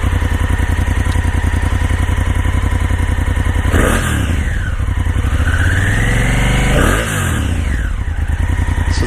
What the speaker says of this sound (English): We'll start it up here so you can hear the twin